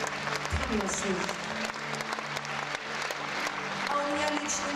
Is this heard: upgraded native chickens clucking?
no